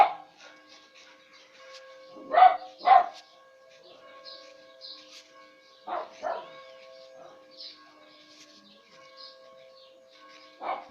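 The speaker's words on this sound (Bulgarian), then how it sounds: "Съжалявам, че чувате моето куче да лае" Dog barks in a few short bursts, near and fairly loud, around the two- and six-second marks and again at the end, against a quiet room with a faint steady hum.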